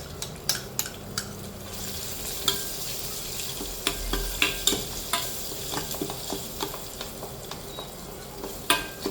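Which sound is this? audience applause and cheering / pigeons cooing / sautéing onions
sautéing onions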